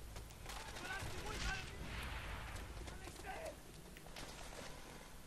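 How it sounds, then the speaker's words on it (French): Video-game gunfire crackles in quick bursts with a dull rocket explosion nearby, fairly faint and muffled, mixed with quieter game background noise. "y'a une roquette qui m'a explosé pas loin"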